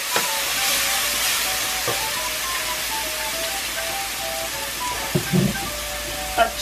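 Red wine poured into a hot pan while roasting beef with onions, giving a steady broad hiss and sizzle of steam that runs throughout, with a few faint clinks and scrapes near the end.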